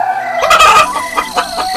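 Cartoon chickens on a farm cluck in a quick series of close, loud calls, with a short burst followed by a few sharper clucks.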